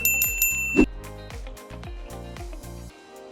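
A bright notification bell ding rings out several times over a steady musical backing, clear and close.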